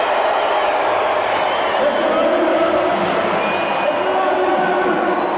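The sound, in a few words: crowd of football fans cheering at Arena da Amazônia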